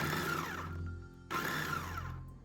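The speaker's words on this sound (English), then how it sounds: "we're gonna chop them in the food processor" A food processor chops two small celery sticks, a medium carrot and a medium yellow onion, its motor whirring loud and steady in two pulses separated by a brief dip as the blades slow and restart.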